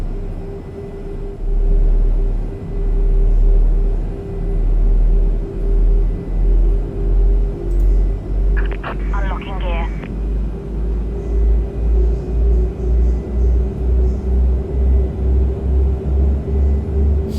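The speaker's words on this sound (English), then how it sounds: "Go behind the engines to listen to it, where it sounds the best on startup." Jet engines of an Airbus A340-600 start up in Microsoft Flight Simulator, a steady low rumble that builds and swells in long pulses, heard from behind the engines, with a brief announcement partway through.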